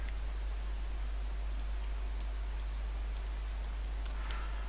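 A computer mouse clicks to select an image in a gallery picker, giving a series of six sharp, light clicks spaced about half a second apart over a steady background hiss.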